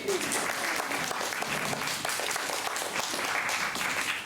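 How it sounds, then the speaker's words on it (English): Audience applause at a health talk event, a steady patter of many hands clapping together for several seconds at moderate, fairly distant level, with no voices over it. "You can clap, why not? Let's clap."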